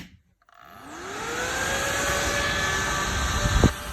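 A powerful electric fan switches on and quickly spins up, rising from quiet to a loud, steady whooshing roar with a climbing whine that holds throughout.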